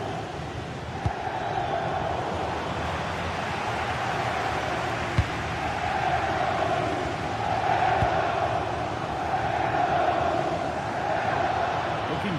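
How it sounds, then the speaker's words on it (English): Stadium crowd at a football match, a steady wide roar that swells and surges at times, heard alone with no talk. "The crowd certainly think so. Just listen to them."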